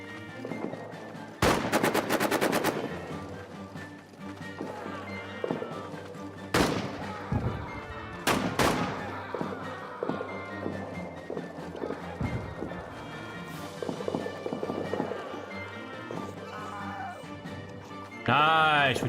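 Machine gun fire in a WWI trench battle video game against the French: loud sharp bursts of rapid shots near the start and again around the middle, with scattered single shots, running and other battle noise between them.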